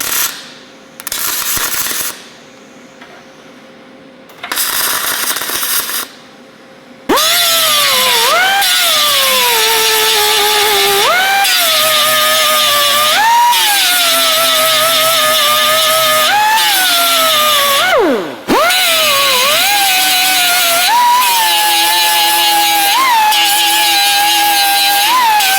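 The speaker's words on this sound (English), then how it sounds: "We'll weld starting at the center of the hole, and we're gonna fill the holes with weld and then grind it smooth" Welding and grinding to fill and smooth holes in the body of a crashed Honda NSX: short bursts of sizzling weld noise, then a long, loud, whining angle grinder whose pitch dips and recovers as it bites the metal.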